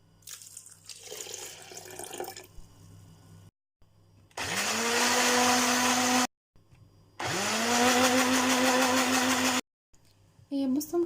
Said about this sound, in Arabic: هنحط عليهم كوبايه ميه وهنضربهم كويس قوي في الخلاط